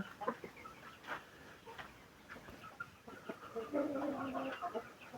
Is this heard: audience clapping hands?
no